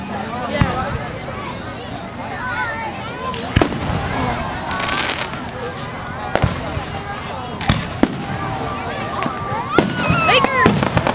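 Fireworks crack and pop at a park fireworks show in Rosemead, scattered bangs and crackles at varying distances while a crowd chatters and people talk nearby.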